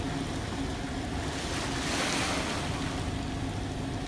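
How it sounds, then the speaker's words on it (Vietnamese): Heavy ocean surf pounds near Da Dong island on a rough day, a continuous loud roar of breaking waves mixed with gusting wind buffeting the microphone, with no voices. "Sóng nó đánh như vậy không cách nào vào được hết."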